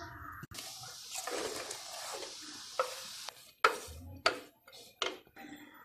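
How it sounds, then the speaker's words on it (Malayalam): Chopped banana peel being mixed with salt by hand, a close, soft rustling and squelching broken by a few sharp knocks and taps, with no talking. "നമുക്കത് മിക്സ് ചെയ്തിട്ട് അടിച്ചു വയ്ക്കാം."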